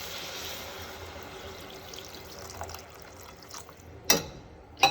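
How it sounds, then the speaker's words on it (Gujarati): Water poured into a pan of sooji for upma: a steady, gentle trickling pour that tapers off, followed by two sharp knocks near the end, with no talking. "હવે એમાં પાણી એડ કરીશું."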